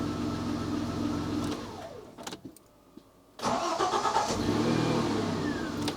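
Citroen XM 3.0 24V engine at operating temperature, a steady mid-pitched idle that dips and cuts out briefly, then returns as a strong even running hum, close by with no talk.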